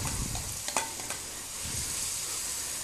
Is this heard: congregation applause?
no